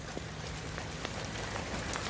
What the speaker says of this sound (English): The rain is really starting to come down.